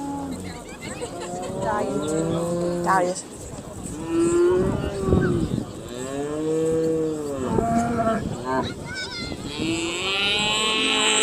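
Simmental cattle at a livestock show moo repeatedly, several long, loud bellows from nearby cows and calves over a steady hubbub of crowd and announcer chatter.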